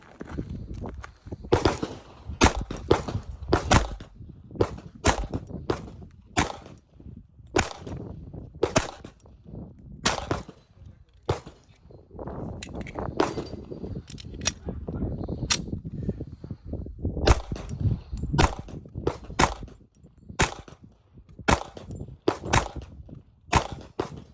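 Kimber Ultra Carry II .45 ACP pistol firing outdoors, roughly twenty sharp loud shots in an uneven rhythm, mostly single shots at intervals of about a second, with short pauses between strings.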